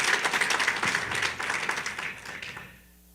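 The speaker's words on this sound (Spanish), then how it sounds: "Y quiero que usted le dé un aplauso al Señor para recibir la palabra." A church congregation applauds loudly during a worship service, dense sustained clapping from many hands that carries on for nearly three seconds before thinning out and fading at the end.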